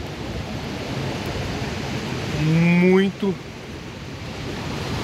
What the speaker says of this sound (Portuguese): Mas olha a altura daquelas ondas ali